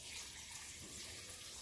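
Distilled water pours steadily into a container of walnuts, a continuous close rushing splash with no breaks and no voices over it.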